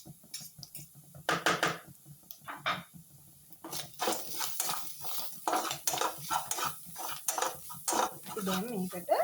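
Food being stirred and mixed in a pot, with a spoon repeatedly scraping and clinking against the metal in an irregular rhythm, close and clear.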